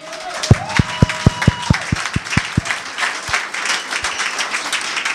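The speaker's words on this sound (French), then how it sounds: "Applaudissons le Seigneur" A church congregation at a French-language victory service claps in a quick, even rhythm of about ten loud, close claps over a sustained tone, then thins to scattered claps under a murmuring crowd.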